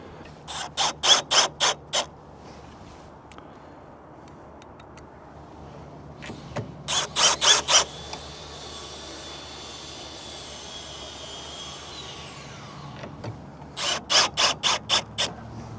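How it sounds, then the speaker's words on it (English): Power drill pre-drilling holes for 3/4 inch screws in a TimberTech RadianceRail railing post, three separate bursts of rapid clicking whirs, each lasting about a second or two, with quiet pauses between. "And then I'm gonna pre-drill for my 3/4 inch screws."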